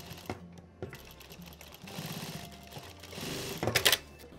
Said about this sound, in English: As it is very thick, if it's difficult to move, slightly lift the presser foot as you're sewing.